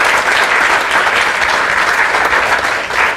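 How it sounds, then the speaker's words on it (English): Sustained applause from an audience, dense and loud clapping throughout with no pauses. "So let's give another round of applause to Ms. Laschinger."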